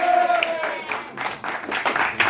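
A comedy-club audience claps in a short burst of scattered applause, rising and falling in waves while a voice speaks over it.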